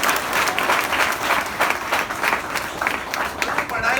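A college audience at a comedy show applauds, dense energetic clapping from a crowd, loud and continuous for the whole stretch.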